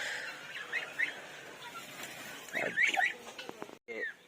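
Pet chickens, among them a hen with three chicks and birds sick with enteritis, give scattered soft clucks and calls at moderate distance, with a brief louder burst near the end.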